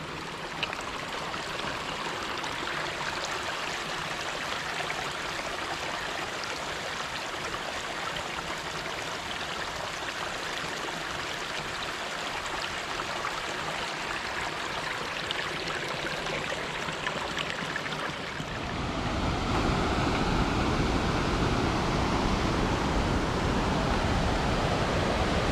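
A big waterfall on the Foothills Trail roars as a steady, dense rush of white water, growing noticeably louder and fuller toward the end as it comes nearer.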